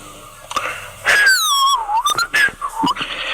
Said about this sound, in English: Butcher started to whistle